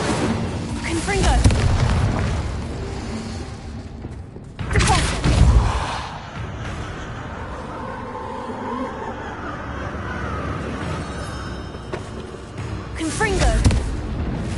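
Confringo fire spells in Hogwarts Legacy burst as deep booming blasts, one early, a loud one near the middle and another at the end, with rumbling between them and a voice speaking.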